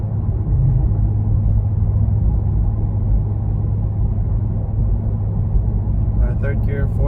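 Engine and road rumble from a Honda Civic Si in third gear, a steady loud low drone that holds throughout without a clear rise in pitch.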